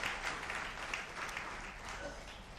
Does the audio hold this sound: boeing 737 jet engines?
no